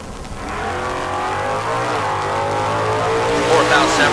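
Camaro drag racing cars launch in Stock Eliminator at a bracket race, engines roaring loud and rising as they accelerate away, with a track announcer talking over the noise.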